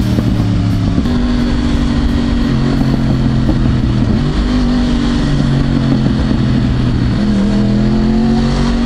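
A 2011 Yamaha R1 sport motorcycle revs hard and close, its engine note climbing in stepped pitches through several gear changes, loud and continuous with no talking.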